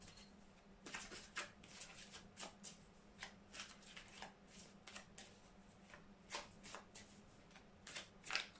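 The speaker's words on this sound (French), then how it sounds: "Je vais tirer des cartes de l'oracle des miroirs" Mirror oracle cards shuffled by hand in a quiet room, a string of crisp riffling bursts in an irregular rhythm, close and fairly soft over a faint steady hum.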